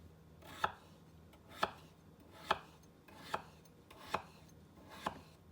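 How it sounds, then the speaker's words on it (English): A knife chops a potato into pieces on a cutting board, six sharp, evenly spaced knocks close by with quiet pauses between them. "we're going to cut it in half again, and then we're just going to make like pieces about like this"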